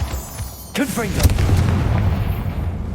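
Confringo explosive spell blast in Hogwarts Legacy, a sharp booming detonation followed by crackling rumble, loud and close, preceded by a brief spoken shout from a character.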